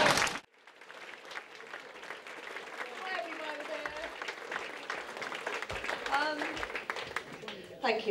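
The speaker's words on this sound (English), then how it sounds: "let's have a huge round of applause for the thickest people in this room" Audience applause at a magazine awards evening, a sustained, moderately loud burst of many hands clapping, with voices and cheers mixed in over the crowd.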